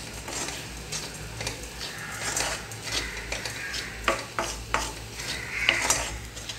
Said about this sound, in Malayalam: പഞ്ചസാര നന്നായി ഒന്ന് മിക്സ് ചെയ്തിട്ട് ഒന്ന് മെൽട്ടായിട്ട് വരണം.